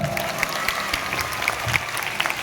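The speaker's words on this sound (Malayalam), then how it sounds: "ഇത് മുഴുവൻ കയ്യടിയാണ്." An audience at a school arts fest claps steadily in continuous, dense applause, loud and close. A faint murmur of crowd voices sits underneath.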